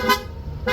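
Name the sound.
Corsa motorcycle horn on Honda Click160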